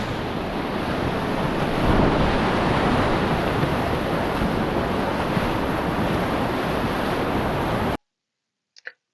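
Rushing river wave at MD Chutes, a steady broadband roar of churning whitewater with wind buffeting, loud and continuous for about eight seconds before cutting to near silence with a couple of faint ticks.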